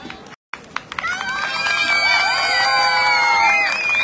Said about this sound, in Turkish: Teşekkür ediyoruz alkışlarınızdan dolayı